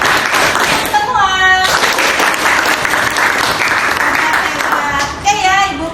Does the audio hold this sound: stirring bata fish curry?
no